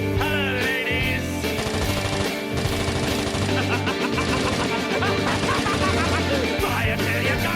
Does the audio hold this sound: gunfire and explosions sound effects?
yes